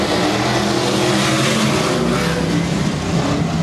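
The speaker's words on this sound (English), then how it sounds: "Eva and Broom to head us away for heat race number two" A pack of super modified race cars starts a heat race at Manjimup. The engines roar loud and continuous, and the revving is dense and close.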